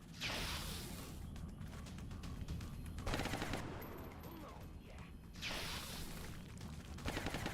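Gunfire in XCOM Long War, with long crackling bursts of automatic fire broken by short gaps and a sharp whooshing impact, fairly quiet and steady in level throughout.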